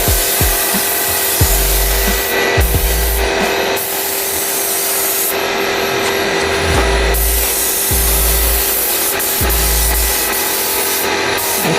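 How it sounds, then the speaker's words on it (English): Steady, loud hissing spray of a first tack coat of sealer on an RC army personnel transporter build continues close by, with rhythmic low thumps and rubbing sounds as passes are made; no talking. "So I'm going to go ahead and spray it now."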